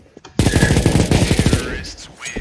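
A burst of automatic rifle fire sprayed in the shooter game CS:GO: one loud, rapid string of shots lasting about a second, followed by quieter game sounds.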